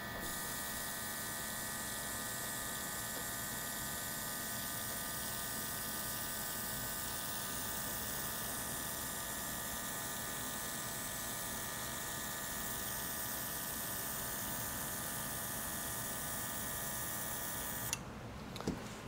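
A steady, hissing airbrush sprays touch-up paint over a strip and nail hole, a constant mechanical whir with a faint compressor-like drone that runs unbroken and then cuts off near the end.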